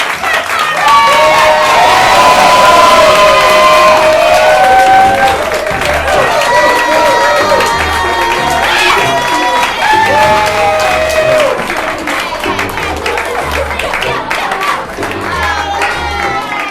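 A crowd at a lively group event claps and cheers loudly, with shouts and whoops rising over continuous applause and voices calling out throughout.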